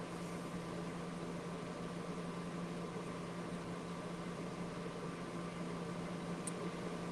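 An air conditioner runs nearby with a steady, even hum and broadband hiss, constant and unbroken throughout with no talk over it.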